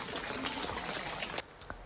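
Rainwater floods a street at night, running and trickling with a dense wash of water noise that cuts off abruptly near the end, followed by a faint splash.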